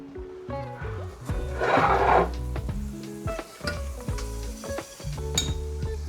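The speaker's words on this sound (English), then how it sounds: "to my hot pan, now I added a little bit of butter, maybe less than an ounce" Butter sizzles loudly in a hot pan with a bright crackling burst, mixed with clinks of utensils against cookware and low thumps, close up.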